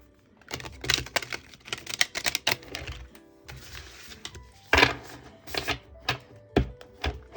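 A rapid run of crisp, papery riffling clicks in quick bursts, pausing briefly before a few sharper snaps, close and moderately loud, as tarot cards are shuffled.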